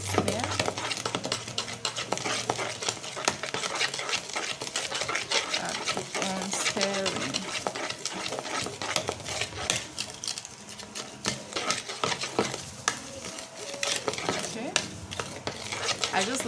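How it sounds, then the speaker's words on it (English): Lumpy whipped cream mixture stirred in a bowl, giving a continuous scraping and clinking of utensil against the bowl at close range. "it's still a bit lumpy as you can see, but I'll still keep on stirring."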